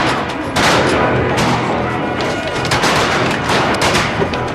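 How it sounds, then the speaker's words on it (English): Gunshots from buffalo being shot, a run of sharp, loud cracks at irregular intervals over a rough background. "We're shooting buffalo."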